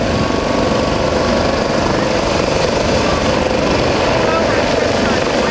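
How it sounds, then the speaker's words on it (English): A loud, constant roar of a hovering United States Coast Guard search and rescue helicopter with rapid rotor thumping, close and unbroken throughout. "the swimmer is lowered from the helicopter's hoist."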